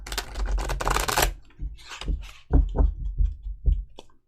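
A burst of rapid riffling as tarot cards are shuffled, followed by several soft taps and knocks of the deck being squared up, close by.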